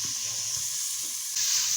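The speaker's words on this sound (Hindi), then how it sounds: "छोटी वाली हरी मिर्च है मेरे पास, ये इसके अंदर डालेंगे और इसे अच्छे तरीके से इसकी भुनाई कर लेंगे।" Minced meat (keema) with cauliflower and small green chillies frying in a pan, a steady loud sizzle that continues unbroken and grows slightly brighter near the end, no voices.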